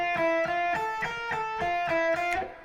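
Guitar picks out a repetitive two-finger practice sequence of single notes, evenly spaced plucks in a steady mechanical rhythm, clear and close with no talking.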